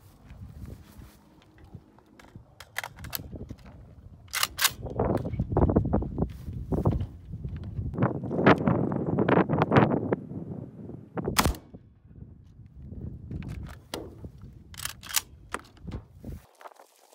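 An AK firing 7.62x39 rounds at a lightweight patrol rifle armor plate outdoors, with sharp, loud cracks scattered across the span amid rumbling, shuffling background noise.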